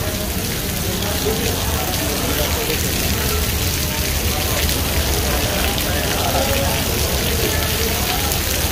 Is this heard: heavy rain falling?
yes